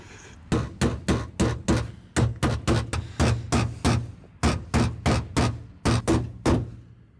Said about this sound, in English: the plan is to just very carefully caress it with the hammer